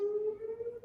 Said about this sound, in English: Weather siren.